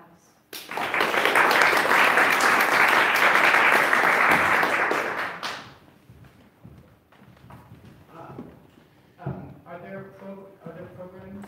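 Warm audience applause for chamber musicians at a concert, a loud dense burst of clapping lasting about five seconds, then fading into quieter room sounds and a voice speaking.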